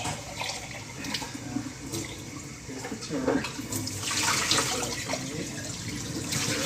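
Tap water splashes and gurgles while a big cup is rinsed in a sink, a steady running flow with a few sloshing bursts, close by and without speech.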